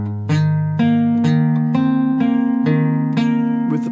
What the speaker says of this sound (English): Without the palm mute, it sounds like this.